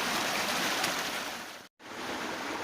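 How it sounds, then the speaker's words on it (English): A stream flows below ancient woodland with a constant broad rush of water, close and fairly loud, cut by one brief silent gap shortly before the end. "the stream, below the ancient woodland, with no one around. Not soul in sight, and lovely flowing water."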